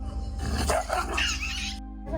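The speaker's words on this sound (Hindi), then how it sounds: "वो देखो वो पिल्लू बहुत छोटा सा एकदम लाचार पड़ा हुआ है" A small, thin puppy on a street in Varanasi gives a faint, brief yelp or whimper amid soft background hum.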